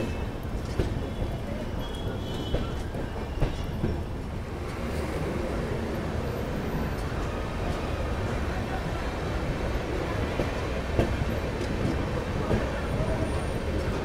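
Hubballi JanShatabdi Express pulling out of KSR Bengaluru station, with a steady low rumble and faint rail clatter heard from inside the train, and occasional voices in the background.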